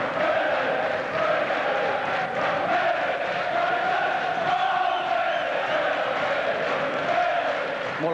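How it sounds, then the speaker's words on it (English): A boxing crowd at a bout roars steadily, a dense wall of cheering and shouting voices that stays loud throughout. "More like a football crowd than a boxing crowd."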